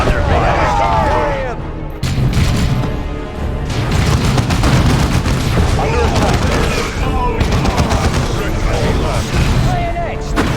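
Loud, dense gunfire and explosions in the Warhammer 40K Dawn of War II: Chaos Rising battle game, a continuous barrage of shots and booms running throughout, with voices shouting over the combat.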